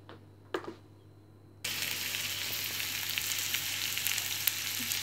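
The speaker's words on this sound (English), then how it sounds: "after already hot for the wok. You can put onion" After a quiet moment with a couple of light knocks, onion hits a hot wok and bursts into a loud, sustained sizzle that keeps crackling steadily.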